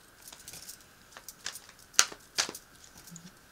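Tarot cards are shuffled close by: a few scattered soft riffles and crisp flicks, with two sharper slaps standing out, quiet and irregular, no voices.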